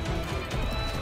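Horses gallop in a dramatic battle scene from a Vikings television episode, dense thudding hooves with a faint whinny, loud and continuous in a busy mix lasting about a second.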